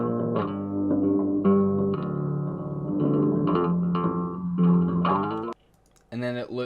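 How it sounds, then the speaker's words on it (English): A short bass guitar phrase recorded with lots of treble and little low end, looping continuously as a backing track; thin, bright, slightly distorted notes play steadily, then cut out briefly before restarting. "this was made on a bass guitar, my brother's bass, and just recorded through here with a lot of high end on it and not a lot of low."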